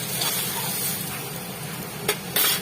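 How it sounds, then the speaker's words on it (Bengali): A paste of garlic, ridge gourd and green chili stirred in a hot pan, with a soft continuous sizzle and faint scraping, then two brief louder clatters of the spatula near the end; no talking. "রসুন, ঝিঙে আর কাঁচা লঙ্কার পেস্টটা ঢেলে দেবো। এবার এটা ভালো করে একটু হালকা নাড়াচাড়া করে"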